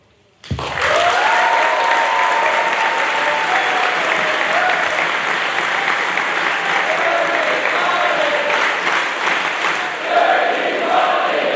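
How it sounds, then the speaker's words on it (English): A crowd breaks into loud, sustained applause that carries on for several seconds, with a few cheers rising near the end. "let's give another round of applause for Dirty Money"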